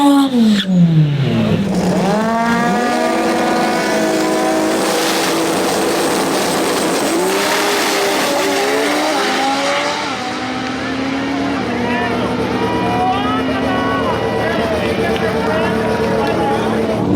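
Loud, high-revving drag racing engines roar continuously, pitch sweeping upward through gear changes as modified-class import cars accelerate hard, with an announcer's voice faintly mixed in.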